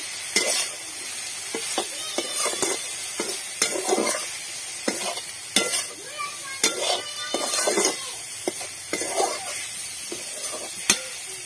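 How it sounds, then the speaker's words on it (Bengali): Yardlong beans stir-fried in a pan in a village kitchen. A spatula scrapes and clanks against the pan in irregular strokes over a steady sizzle, close and moderately loud. "ভাজি করতেছি, বরবটি ভাজি"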